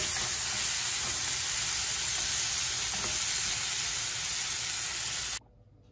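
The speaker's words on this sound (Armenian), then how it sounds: "այս կտորները, ալուի մեջ կթաթախեմ և կտապակեմ" Egg-dipped pieces frying in a pan make a loud, continuous sizzle that holds steady and then cuts off abruptly near the end.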